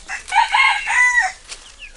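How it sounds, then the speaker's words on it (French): A small white hen clucks and squawks up close in a farmyard. A short burst of loud, nasal clucking is followed by a quieter cluck at the end, with no voices. "Je crois que ça, c'est la petite poule qu'on va embarquer, là."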